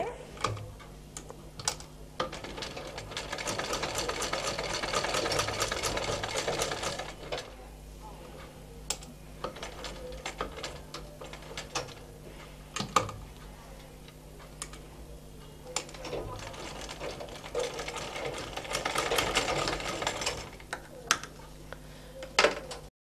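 A sewing machine stitching hook loops on a blouse, with bursts of rapid, close mechanical ticking and clatter between pauses and small handling clicks, and faint talk in the background.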